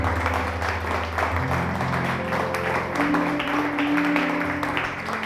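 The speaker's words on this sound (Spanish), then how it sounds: "¿Por qué un aplauso a Jesús?" A church congregation applauding at the close of a service, moderately loud and steady, with a sustained musical tone under the clapping.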